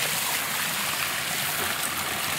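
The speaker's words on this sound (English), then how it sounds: "Now that water's going into our new swale, which has never had water in before." Water rushing steadily into a newly dug, previously dry farm swale during heavy flows after drought, a continuous broadband stream-like wash heard close and alone.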